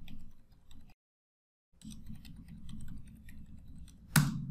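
Quiet, close typing on a computer keyboard while entering data in an Excel spreadsheet: rapid light key clicks, a brief silent gap, then more typing ending with a sharper, louder keystroke.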